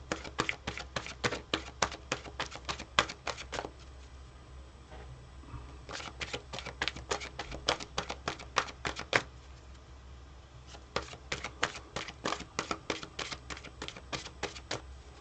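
Tarot cards riffle in three quick bursts of crisp, rapid flicking, each burst separated by a brief quiet pause. Close and fairly soft.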